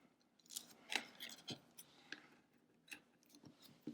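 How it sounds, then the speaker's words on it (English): Several quiet snips of small scissors cutting the cord of a Perler bead bracelet, irregularly spaced, with faint rubbing and handling noises between the cuts. "And then I can use my scissors to cut off the extra."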